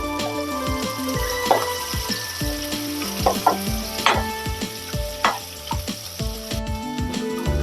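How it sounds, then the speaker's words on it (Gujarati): Onion and cabbage sautéing in a hot pan for a vegetable quesadilla filling, a loud continuous sizzle with stirring scrapes, set against tonal background music. "ડુંગળી નાખી આપણે કોબીજ નાખશું અને સાતરડા દઈશું"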